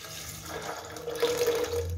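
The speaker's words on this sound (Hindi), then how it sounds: "जिस पानी में मैंने बादाम भिगो के रखे हुए थे वो पानी ऐड करेंगे।" Water with soaked almonds pours steadily into a blender jar, a close splashing trickle that grows slightly fuller toward the end.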